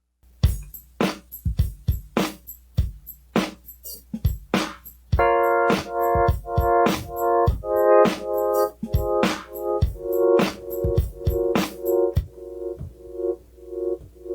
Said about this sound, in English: So that's side chaining. Basically dips the sound every time we have a beat.